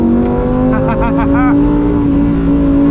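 A Lamborghini Huracan STO is driven hard on a race track, giving a loud sustained engine drone with brief rising rev pulses.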